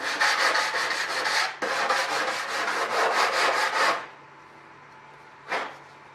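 Sandpaper of 120 and 220 grit rubs back and forth to deburr aircraft metal parts, in two long stretches of quick, close scratching strokes followed by a brief final swipe.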